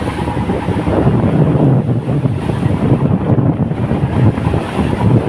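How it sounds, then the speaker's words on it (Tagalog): Strong wind buffets the microphone in a steady, loud roar, with a faint wash like water or surf underneath and no voices. "Medyo mahangin pa rin."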